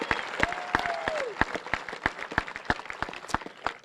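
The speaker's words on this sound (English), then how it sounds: "Give yourselves a huge round of applause." A graduation audience at a high school ceremony breaks into applause, with sharp, scattered claps rippling irregularly and a brief tonal voice-like sweep near the start.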